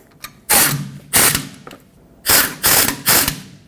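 Ratchet wrench snugging brake caliper bolts on the rear brakes of a 2011-2016 Ford F-350, loud close bursts of fast clicking in five separate runs with short pauses between, no talking.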